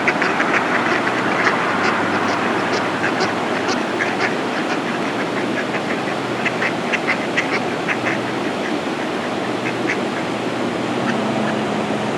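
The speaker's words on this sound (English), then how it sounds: "That concludes our duck feeding at the park." Ducks quack repeatedly during feeding at a park, a scattered chorus of short calls over a steady, loud outdoor rumble, fairly close and continuous throughout.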